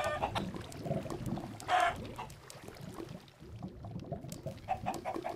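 Chickens in a Minecraft modpack cluck repeatedly in short, busy bursts, with several overlapping calls at moderate volume throughout.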